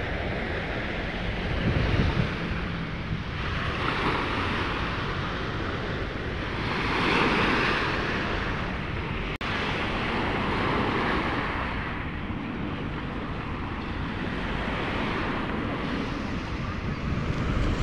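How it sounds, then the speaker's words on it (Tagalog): Strong wind buffets the microphone while large waves roll and crash continuously at Manila Bay, a loud roaring wash of surf that swells and eases. "Medyo malakas ang hangin at malalaki yung alon."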